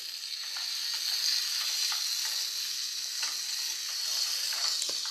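Fish roe fries with tomato and torn green chilli, a constant bright sizzle punctuated by regular spatula scrapes and taps as the pan is stirred.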